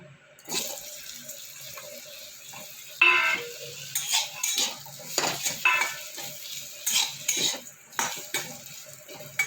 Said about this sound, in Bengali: এবার ওই কড়াইতে দেবো কেটে রাখা আলু